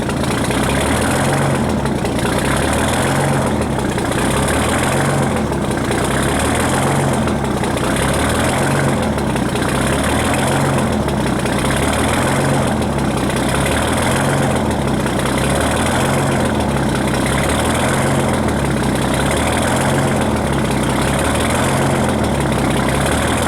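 International truck with a Detroit Diesel 6-71 idling after a cold start, a loud, steady, rough engine drone with a rhythmic pulsing throb and knocking underneath, close and alone.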